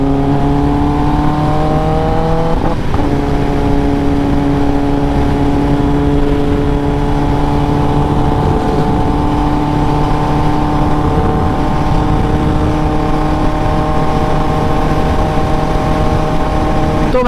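A Kawasaki ZX-10R motorcycle engine runs loud and steady throughout, its tone rising once early on as it revs and then holding a constant high drone, with no talking.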